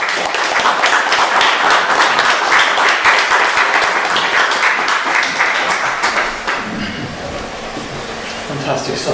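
Applause from a live audience after a poetry reading, a broad, dense wash of clapping that fills the room, with voices mixed in, easing slightly toward the end.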